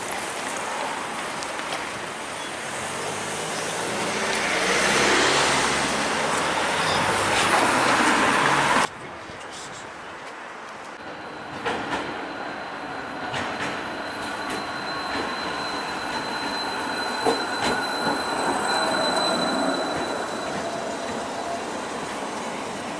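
A London tram runs on the rails at Beckenham Junction, first with a loud, close rushing rumble, then a quieter rolling drone with faint wheel squeals and clicks.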